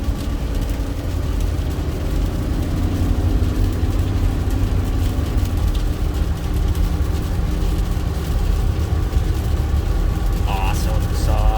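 A Ford Super Duty truck, earlier lacking power, pulls under acceleration with a loud, steady low engine drone heard from inside the cab, while someone talks over it.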